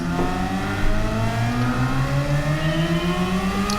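A naturally aspirated Honda S660's engine climbs steadily in pitch as it accelerates, a smooth continuous whine heard from inside the cabin.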